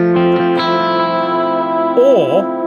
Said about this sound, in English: digital delay there. Let's just hear that.